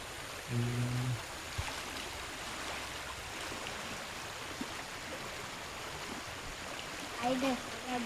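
A river rushes past a gazebo, a constant broadband flowing hiss at moderate distance with a few brief voices speaking over it.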